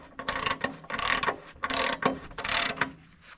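A sawmill's belt tensioning mechanism is loosened so its two wheels slide closer together, giving four loud close bursts of ratcheting metal clatter in a regular rhythm with short gaps between them.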